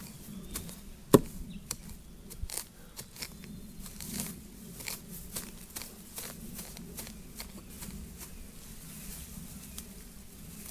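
A V hoe garden tool chopping into soil, a rapid series of short crunchy strikes, close and fairly quiet, with one sharper hit near the start.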